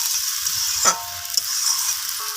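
Water poured into a simmering mango chutney sets off a brief burst of sizzle, then a softer steady hiss with a few light clinks, and no voices.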